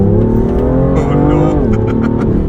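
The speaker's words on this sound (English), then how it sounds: "I think let's warm up my car. Let's do a little drag race." A BMW M2 accelerating hard in a drag race against a four-wheel-drive M car, its engine a loud continuous roar that climbs steadily in pitch, with a brief voice heard over it.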